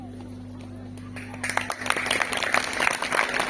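Applause at a school prize-giving ceremony for bright students, as a crowd starts clapping and builds into a dense, continuous patter that carries to the end, with a voice speaking briefly before it begins.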